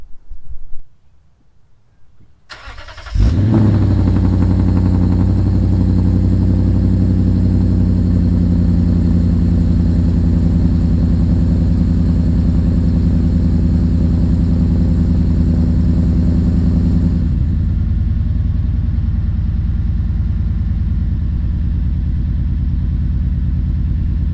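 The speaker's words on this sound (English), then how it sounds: "I think I'm gonna give you guys a nice cold start" After a brief quiet rustle, a 5-liter V8 car engine with long-tube headers cold-starts, cranking and roaring to life, then settles into a loud, steady, rumbling idle that softens slightly near the end.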